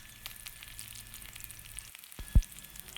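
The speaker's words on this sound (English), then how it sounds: "like 1 tablespoon of oil, then add a little bit of onions. Cook for a minute or 2, then add salt and garlic." Onions and garlic frying in about a tablespoon of oil for cabbage minced meat, a steady soft sizzle close by with one brief louder knock near the end, and no talking.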